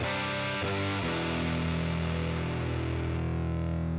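A heavily distorted electric guitar chord, through a distortion pedal at full distortion, rings out loud and sustained, with a couple of quick re-strikes near the start before it holds.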